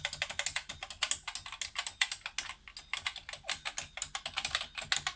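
Rapid, clattery typing on a faulty BBC Micro computer keyboard, close and loud, with dense irregular keystrokes running continuously and no voices.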